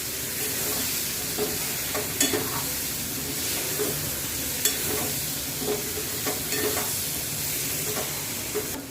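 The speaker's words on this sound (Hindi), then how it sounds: "अब सभी मसालों को आपस में अच्छी तरीके से पहले मिक्स करेंगे।" Spices being stirred into potatoes frying in a pan for an aloo fry, a steady close sizzle with scraping spoon strokes and occasional clinks throughout.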